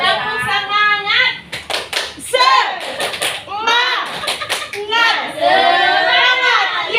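A class of Indonesian schoolchildren and teachers performs a patterned spirit clap. Crisp group clapping in quick rhythmic bursts mixes with loud, close chanting voices.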